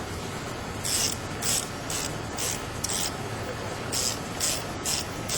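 Ratchet tightening the mirror bolts on a Hyundai Sonata, with quick repeated clicking strokes in a steady rhythm under a constant background hiss.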